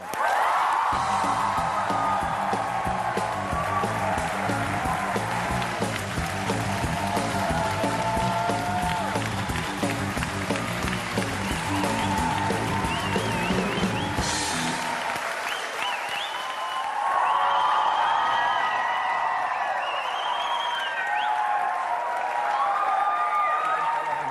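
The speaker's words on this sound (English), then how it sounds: "How long have you lived with this kind of applause, this level of applause?" A large studio audience gives a long, loud ovation with cheering as a host and Shah Rukh Khan walk on for a televised interview: sustained dense applause with a music bed through the first part and crowd voices throughout.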